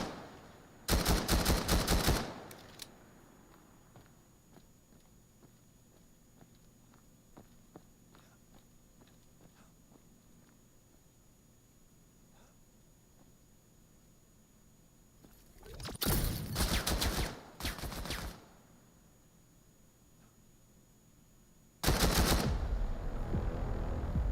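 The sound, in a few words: gunfire and grenade fight in the VR shooter game VAIL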